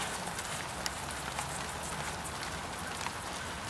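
Steady rain pattering outdoors onto surfaces around a camera left out in the rain during an oil change and service on a tractor loader backhoe, a constant hiss with occasional sharper drops.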